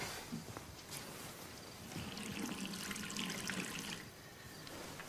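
Tap water running steadily into a glass, a faint continuous trickling rush with no voices.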